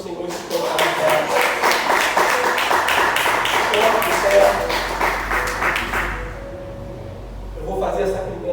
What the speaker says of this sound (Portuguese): Vamos aplaudir o Senhor e se colocar em pé.